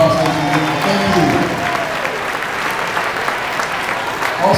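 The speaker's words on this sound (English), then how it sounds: "And Whitney, let's give them all a nice round of applause, ladies and gentlemen" An audience claps steadily at a formal arts acknowledgements ceremony, a dense, sustained round of applause, with a voice speaking briefly near the start.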